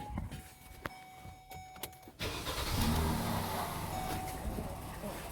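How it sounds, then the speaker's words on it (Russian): A car engine starting in severe Yakut frost around -48 degrees, first a faint cranking whir, then catching abruptly into a loud, rough, uneven idle that runs steadily to the end. "Во-первых, движочек что-то подтраивает, как-то работает неровно."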